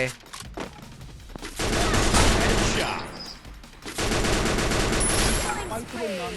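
Gunfire in the video game Free Fire, an M60 among the weapons, loud sustained bursts of rapid automatic fire with short gaps between volleys, close and dominant.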